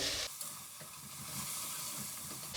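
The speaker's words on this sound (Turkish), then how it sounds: "yarım çay bardağından biraz fazla zeytinyağı ve 400 gram dana tek çekim kıymamı ilave ediyorum" 400 grams of 30% fat ground beef fries in olive oil, a faint, continuous hiss and sizzle heard quietly from start to finish, with no speech.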